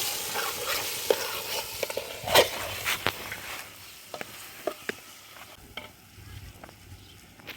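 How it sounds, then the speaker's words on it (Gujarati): Tomatoes and chillies frying in oil with masala for Kutchi kharibhat, cooked outdoors at a farm; a soft sizzle runs underneath while a spoon scrapes and clinks against the pot in scattered sharp knocks, close and with no talking. "ટમેટા મરચા સુધારીને આપણે નાખી દઈ તેલમાં પાકવાથી બધા શાકભાજીને"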